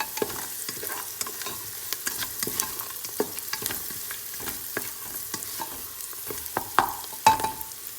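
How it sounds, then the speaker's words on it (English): Green cardamom and cloves frying in ghee for Kerala ghee rice, stirred with a spoon that clinks and scrapes repeatedly over a soft steady sizzle, close and fairly quiet, with no speech. "I'm now going to put this elaichi and cloves. Time to mix them."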